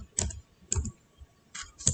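A few separate keystrokes click on a computer keyboard while text is entered for a Cricut cut-file design, close and crisp, spaced apart with short pauses and no talking.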